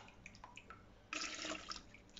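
Diluted sugar water poured onto walnut husks for homemade nocino, a few soft drips followed by a short, steady splashing pour close by.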